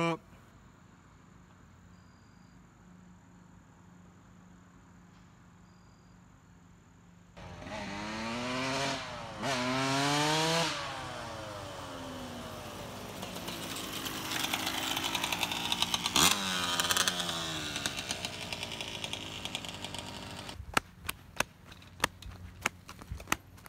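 A dirt bike ridden by a man back on one after more than 20 years: a buzzy two-stroke-like engine rises and falls through revs, then fades into sharp clicks near the end, with people talking faintly.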